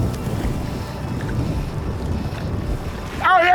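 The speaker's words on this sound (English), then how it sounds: "The wind's coming from upstream now." Wind buffets the microphone on a river during a fly-fishing outing, a low, rumbling gusty roar under faint water sounds, then a brief bird-like chirp near the end.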